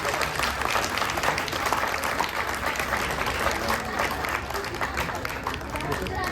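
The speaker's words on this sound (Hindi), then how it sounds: "बेहतरीन प्रस्तुति, जोरदार तालियां होनी चाहिए" Sustained, dense applause from an audience for a group of young performers after a stage show, steady and loud throughout with crowd murmur mixed in.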